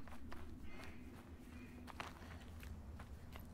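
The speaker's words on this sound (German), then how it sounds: "Ich höre hier auch die ganze Zeit Schritte." Footsteps in the video game Through the Woods, a steady run of soft steps under a low droning ambient bed, fairly constant and not very loud.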